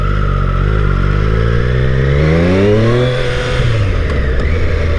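A Triumph Street Triple motorcycle runs close by, its engine holding a steady drone before the revs climb smoothly and then ease off, loud throughout with no talking.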